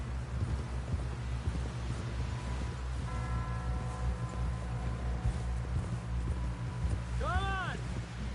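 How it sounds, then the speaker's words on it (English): Horse hooves clip-clopping in Red Dead Redemption 2, a steady rhythmic patter under wind noise and game music, with people talking over it. "Someone help John down off this horse."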